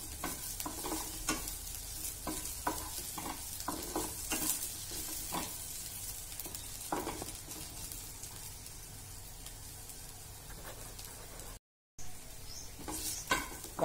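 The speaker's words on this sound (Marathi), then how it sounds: "त्या आपण कांद्याबरोबर परतूया।" Two green chillies sizzle and fry with onions in a pan as they are stirred, a continuous crackling hiss broken by frequent stirring scrapes and taps, with a brief dropout near the end.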